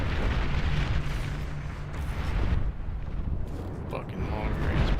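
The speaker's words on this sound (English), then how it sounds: "plasma cannons are targeting your units." Plasma cannon shells from the real-time strategy game Beyond All Reason burst in a dense, continuous barrage of booming, rumbling explosions, loud and layered throughout with no clear gaps.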